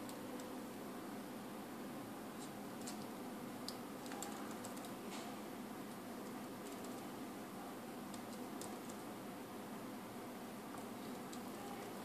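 Typing on a generic $25 Bluetooth keyboard for a Nexus 7 tablet. Faint, rapid clicks of keys sound under a constant hiss of background noise, steady and irregular throughout.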